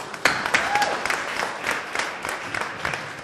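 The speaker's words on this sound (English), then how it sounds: "give a big warm round of applause" An audience gathered among machines at a Manchester history talk applauds a speaker, steady mid-level clapping that carries throughout with murmured voices underneath.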